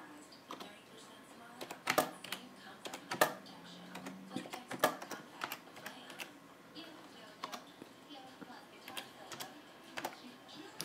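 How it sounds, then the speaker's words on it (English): Keys clatter on a computer keyboard running Windows XP without a mouse, with irregular close clicks and a few sharper keystroke bursts against quiet room tone. "so this is me typing"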